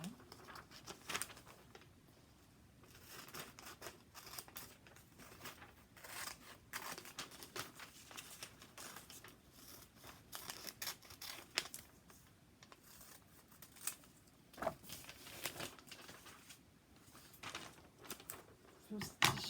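Scissors snipping and hands tearing paper for a collage, quick irregular cuts and rips close by, fairly quiet, with a voice talking over parts of it.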